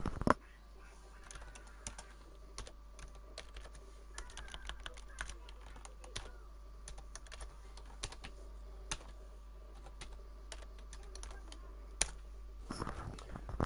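A computer keyboard is tapped to enter a terminal command, with soft, irregular keystrokes in quick bursts over a faint background hum; it is quiet and close, with no talking.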